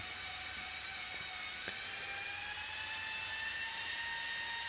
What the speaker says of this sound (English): use the paddle of the drill to press the water through the compound